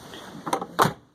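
Two quick thuds from a 1997 Oldsmobile Bravada door fitted with new seals, a lighter knock followed by a firmer, solid shut, close by and with no voices.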